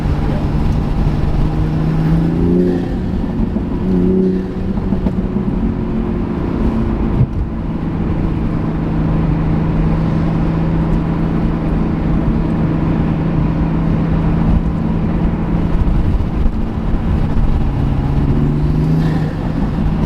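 A Toyota Supra engine revving hard in fourth gear, a loud, steady, droning roar that holds for about twenty seconds with small pitch swells and no talking.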